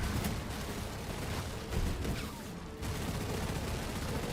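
Freezing rockets firing in the buggy video game Re-atomizer, a dense rapid burst of gunfire-like blasts that runs steadily, dips briefly, then resumes without a pause.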